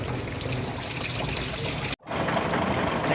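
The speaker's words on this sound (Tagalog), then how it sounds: "Nagsubra-subra na ang tubig." Coolant water boils over from a parked 6m70 unit, a loud, continuous gushing hiss of liquid that cuts out briefly partway through, then resumes just as strongly.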